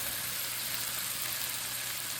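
Beaten egg sizzles in butter in a pan with a steady, even hiss and crackle, close and fairly quiet, with no voices.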